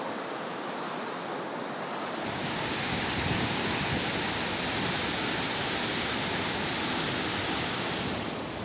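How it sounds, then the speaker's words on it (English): A waterfall in the Brecon Beacons, Wales: a steady, loud roar of falling water, a broad continuous rush that swells slightly after the first couple of seconds and holds without pause. "So behind me is the must-visit waterfall here in the Brecon Beacons."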